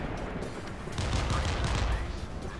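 Rapid naval cannon fire in the Modern Warships video game, a dense rolling barrage of booming gun reports layered over low rumble and continuous battle noise, loud and sustained throughout.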